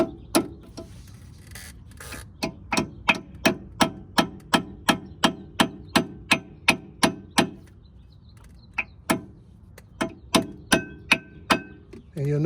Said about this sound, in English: And I'll just take a hammer